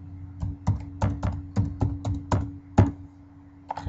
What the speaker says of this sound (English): once Google opens up, you're going to simply type in